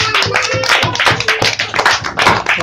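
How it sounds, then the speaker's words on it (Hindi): A room of young children in a second-grade classroom clapping together, a steady burst of dense, loud, close applause that continues throughout without pause. "चलो सबके लिए एक बार ताली, सबने बहुत अच्छा बनाया"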